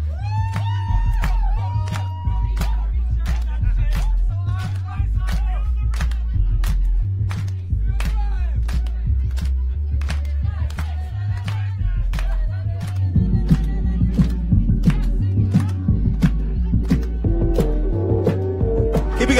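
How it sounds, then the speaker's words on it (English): A live crowd at a London drum and bass show claps hands in a steady rhythmic pulse along to a deep, pounding bass line, with the music growing fuller and louder toward the end. "this is the sound of people in London clapping their hands to just the bass line"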